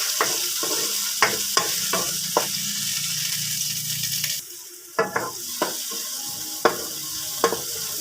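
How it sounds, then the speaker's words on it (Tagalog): Garlic, onion and tomato sauté in a pan, a continuous sizzle broken by sharp scraping stirs from a spatula. The frying drops quieter midway, then more scraping strokes follow, close and with no talking. "Tapos pagsabayin na natin yung sibuyas at saka yung kamatis. Sangkot siya natin ulit."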